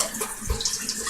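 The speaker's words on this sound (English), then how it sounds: "I rinse my hands" Tap water runs briefly while hands are rinsed during whole chicken grilling, a short, close splashing stream with no talk.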